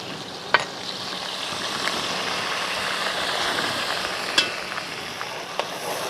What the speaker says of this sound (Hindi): इसमें हम ये अदरक और लहसुन का पेस्ट डालेंगे।